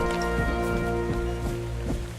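Steady rain falls in the survival game ARK: Survival of the Fittest, a continuous even hiss with faint pattering, heard alone without talk.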